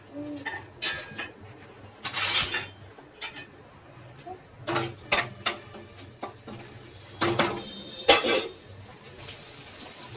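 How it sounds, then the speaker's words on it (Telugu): Crushed garlic and cumin seeds frying in oil in a pan, with a soft sizzle beneath repeated clinks and scrapes of a spoon stirring against the metal in short bursts. "గార్లిక్ను జీలకర్ర వేసింది వేగుతూ ఉంది కదా"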